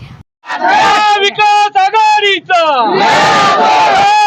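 Crowd celebrating an election victory at Paranda and Yermala, loud massed voices shouting and cheering in sustained bursts with brief gaps, close and overpowering.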